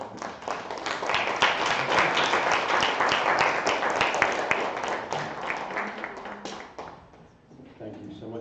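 A town hall audience claps for several seconds, a dense, steady applause that fades near the end as a voice starts speaking.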